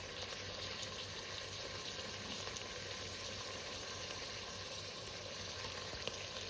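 Chopped onion frying in a pan for a Gujarati seafood curry, a steady broadband sizzle that holds constant and close with no talk over it.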